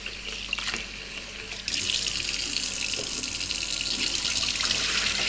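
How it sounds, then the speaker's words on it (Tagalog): Water gushes steadily from a tap into a sink while cooking ginataang monggo, a continuous splashing hiss that grows louder and fuller after the flow increases, with no talk. "So, magtapon tayo ng tubig. Maraming tubig."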